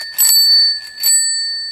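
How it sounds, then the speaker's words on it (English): Bicycle handlebar bell rung twice in quick succession, bright clear metallic dings close up, each ring sustaining and fading out, with no other sound. "You're gonna have to intend to ring your bell"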